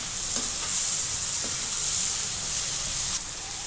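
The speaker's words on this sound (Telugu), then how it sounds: "చిన్నగా కలుపుకోవాలి. ఇది ఉల్లిగడ్డలు కొద్దిగా మగ్గాలి." Chopped onions with a little turmeric sizzle steadily in a hot pan for paneer butter masala, with a dense continuous frying hiss and a few soft stirring scrapes, close and fairly loud with no talking.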